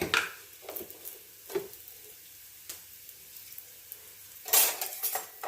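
A green chili dropped into hot sesame oil in a pan: short sizzling bursts and faint utensil clinks on a quiet background, with a louder spitting flare near the end.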